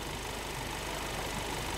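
The 1.5-litre diesel engine of a 2023 Kia Carens idling, a steady, smooth, even hum with no voices, close and continuous throughout.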